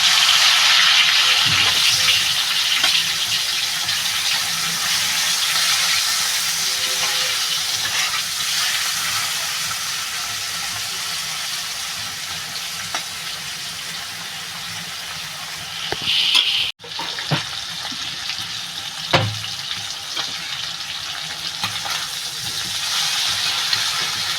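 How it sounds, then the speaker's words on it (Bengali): Prawns fry in hot oil for a Bengali banana flower ghonto, a loud, steady, close sizzle that runs throughout, with a brief clatter about two-thirds of the way through. "বন্ধুরা তেলটা গরম হয়ে গেছে আমি মাছটা দিয়ে দেবো"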